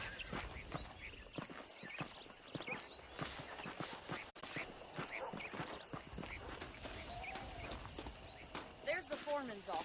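Saddled horses' hooves clip-clopping at a walk in the Red Dead Redemption video game, a steady run of soft hoof beats set back under ongoing speech.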